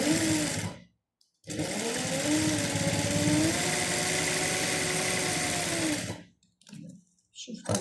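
An electric sewing machine stitches the back of a dishdasha in two steady runs separated by a short pause, its motor whirring up and down in pitch, followed by a few quieter handling noises.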